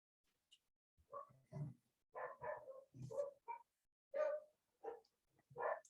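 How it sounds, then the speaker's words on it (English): A dog barks again and again outdoors, the barks irregular and somewhat distant, each one short and rough with gaps between. "I don't know if you guys can hear my dog."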